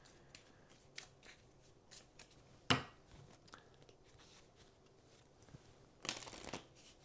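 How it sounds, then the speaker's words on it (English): Ashes Ascendancy card game cards being shuffled by hand, with scattered soft riffles and crisp snapping bursts, one sharp flurry early and another near the end, close up and with no talking. "gotta shuffle these well"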